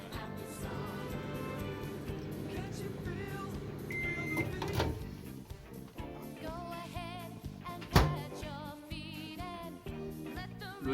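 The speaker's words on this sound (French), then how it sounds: "Donc on la met dans le micro-ondes" A microwave oven heats a cup of water for about thirty seconds while bread dough is prepared, with a steady humming drone, a short beep and a sharp clunk of the door near the end.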